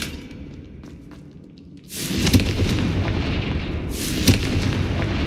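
A Confringo fire spell bursts in Hogwarts Legacy, a loud booming explosion followed by a rumbling tail, then a second blast a couple of seconds later, with no talk.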